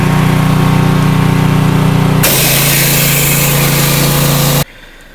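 The engine of a 1958 Ford F100 truck runs loud and steady close by, shifts to a harsher, brighter roar midway, then cuts off abruptly, leaving quiet background.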